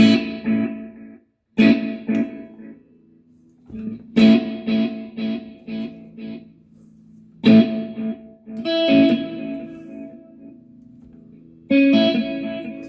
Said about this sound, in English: it's a multi echo again, probably stereo.